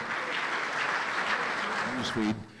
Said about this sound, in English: Listen to the applause.